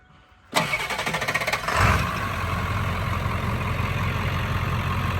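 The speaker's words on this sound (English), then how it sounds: "we'll have him start that up, see what it sounds like real quick" A 1999 Ford F350 Super Duty with a 7.3 Powerstroke diesel cranks briefly after a quiet moment, catches and settles into a steady, loud, close-up idle rumble that continues without any talk.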